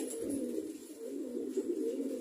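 Pigeons coo in a loft, a steady, throaty, layered murmur of several birds close by, without talk.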